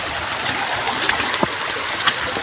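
A river flows with a steady rushing wash, broadband and fairly loud, with a few small splashes and gurgles breaking the even stream.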